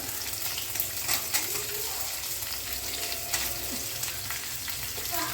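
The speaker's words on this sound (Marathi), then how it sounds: "आणि ते थोडा वेळ परतून घेऊया तुपात." Potato pieces fry in ghee for sabudana khichdi, a steady, even sizzle and crackle held close and constant throughout, with no one speaking over it.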